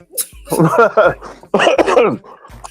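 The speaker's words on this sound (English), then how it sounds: "We out here coughing." Harsh coughing fits, close and loud, in a few bursts separated by short pauses, with throat-clearing between them.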